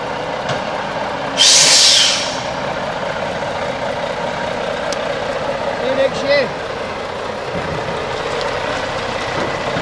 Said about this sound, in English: The truck powers forward, the heavy diesel engine grunting.